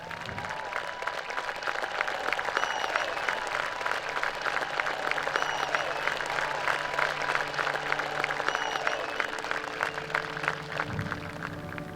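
Sustained applause from a large crowd at a high school commencement, steady and dense throughout, heard from within the room with no speech over it.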